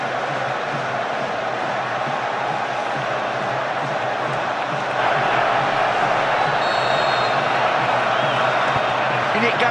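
A large stadium crowd at Wembley roars steadily during an England versus Croatia Euro 2008 qualifier as Beckham lines up a free kick, a dense wash of voices that swells louder halfway through.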